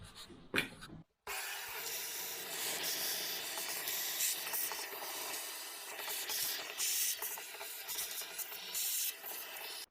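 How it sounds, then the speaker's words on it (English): A wet vacuum sucking water during a Vaillant EcoTec boiler diverter valve replacement, a steady airy hissing roar with gurgling, rubbing fluctuations after a few brief knocks at the start. "So let me wet vac."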